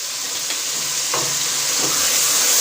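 Chickpeas being stirred in a pan with ground red chilli, turmeric and salt: a steady hiss of sizzling with a few soft scraping strokes, close and continuous, no voices.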